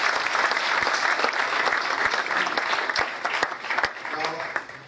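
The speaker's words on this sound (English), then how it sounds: "Can we have a round of applause," Steady applause from an evening event audience, dense clapping filling the whole stretch with a few sharper individual claps standing out, loud and continuous without a break.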